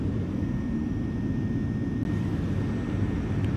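Cabin rumble of an ANA Boeing 787-10 airliner descending to land over Osaka, a steady loud low engine and airflow roar with a faint high whine throughout, and a single brief click near the middle.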